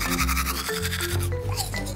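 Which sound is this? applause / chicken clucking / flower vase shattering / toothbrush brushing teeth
toothbrush brushing teeth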